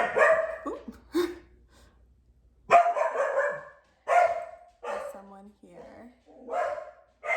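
A dog barks a few times in a home, the loud bursts mixed with a person's talking nearby.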